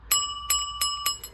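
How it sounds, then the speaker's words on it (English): Small bells from a face-changing building block spelling game ding four times in an even rhythm, each a bright, clear ring with a short decay, close and alone. "the bells do sound and feel pretty good"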